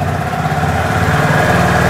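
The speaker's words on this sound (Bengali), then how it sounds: "গাড়ি ঠান্ডা আছে, তাই জন্য এরকম আওয়াজ আসছে।" A cold second-hand motorcycle engine idles steadily nearby, a continuous low throbbing with an even, slightly rough pulse and no talk.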